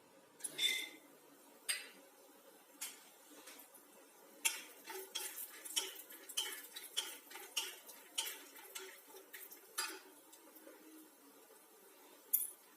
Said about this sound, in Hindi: एबे मु कढ़ई बसई देइची कढ़ई रे गोटे चम्मच तेल दे देबी